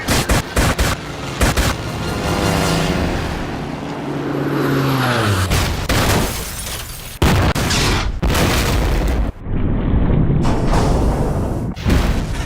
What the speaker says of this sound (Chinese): 船尾左舷水下爆炸，船壳爆裂，转动失灵